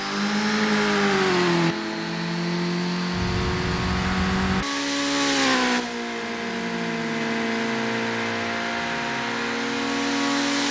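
Kei car engine at Tsukuba Circuit in Assetto Corsa, droning steadily on an easy outlap, with pitch rising through revs and dropping sharply at two gear changes, loud and close throughout.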